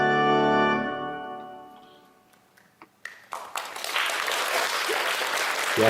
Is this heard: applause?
yes